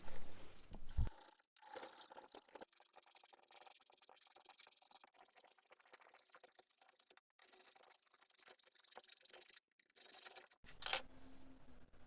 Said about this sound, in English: Now I'm going to start filing out the can opener.